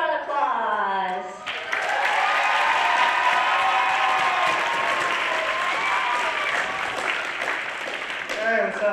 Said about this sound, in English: So please welcome them with big round of applause.